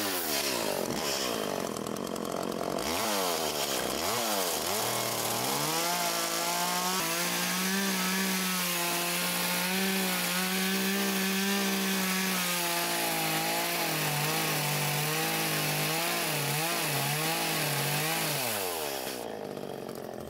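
A chainsaw revs up and then cuts steadily through a slab of spalted, figured wood, its bar guided along a clamped straightedge; the engine holds a loud, sustained whine under load before winding down, with no talking.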